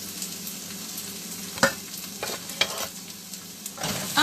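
Onions frying in a pan are stirred, a soft steady sizzle running throughout with a few sharper scrapes and clinks of the utensil against the pan, all fairly close and without talk.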